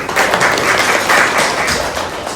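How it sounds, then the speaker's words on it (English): Loud, dense applause from a school audience at an improv show, many hands clapping close and steady throughout with a slight dip at the end. "a big round of applause for you all"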